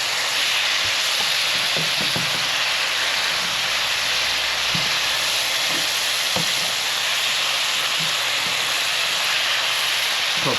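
Hot fish and vegetables sizzle and hiss steadily in a pan, with a few clinks and scrapes as they are stirred, loud and close with no talking.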